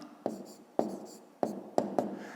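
Pen or pencil writing out a fifth-grade math exercise, heard as five sharp close taps, each followed by a short scratchy stroke, in an uneven rhythm on a quiet background with no voices.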